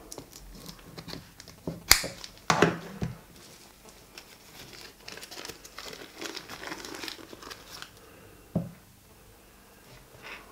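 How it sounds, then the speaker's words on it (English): Crinkling and snipping at the string tied over a steamed syrup pudding bowl, with a few sharp louder rustles and cuts early on, then softer crackling handling close by. "Cut the string off."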